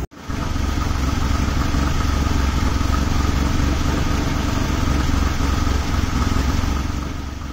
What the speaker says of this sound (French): On l'entend, le véhicule tourne comme une patate, j'ai des ratés